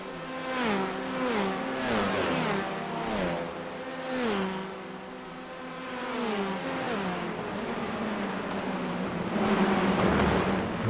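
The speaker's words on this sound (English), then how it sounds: "You want to hear those touring cars roar down that back straight." Several touring cars in a racing video game roar past one after another down the back straight at Canadian Tire circuit, engines revving up and dropping in pitch as they shift gears, loud and continuous.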